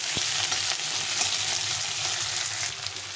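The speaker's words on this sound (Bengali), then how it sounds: "পেঁয়াজটাকে একটু লাল লাল করে দিয়ে নেবো" Thick, chunky onion slices fry steadily in hot oil until reddish, giving a continuous close sizzle with occasional soft stirring scrapes and no voices.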